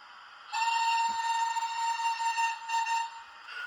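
Hornby model steam locomotive sounding a sustained, multi-toned steam whistle close by for about two and a half seconds, loud and steady with slight wavering, over a faint background hiss.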